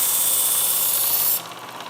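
An electric belt sharpener hones a kitchen knife, a steady, bright abrasive whir with the blade on the belt that lifts away near the end, leaving a softer running hum.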